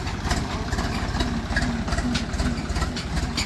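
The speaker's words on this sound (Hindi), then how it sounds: "आवाज सुनो जी ट्रैक्टर की आप" A Swaraj tractor engine runs at a steady idle, close and continuous, with a rough, evenly repeating diesel knock and a low rumble.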